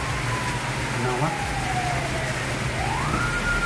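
An ambulance siren wails in the distance, its pitch sliding up and down beneath a steady low engine rumble and a faint voice.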